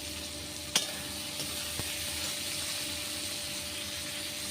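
Tomato and green chili frying with panch phoron in a pan, a steady close sizzle with a sharp clink of a utensil early on.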